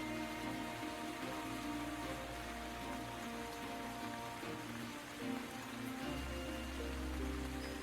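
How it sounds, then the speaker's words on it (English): Steady rain from the video game Chronicles of Mystery: The Scorpio Ritual, a dense continuous hiss of falling drops with a low rumbling bed that swells slightly near the end, even and unbroken throughout. "This rain reminds me of something."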